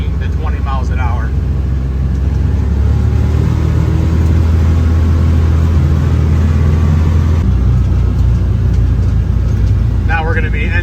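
Can-Am Defender side-by-side driving at about 15 to 20 mph, a loud continuous engine and drivetrain drone with a faint front differential whine, and people talking at the start and end.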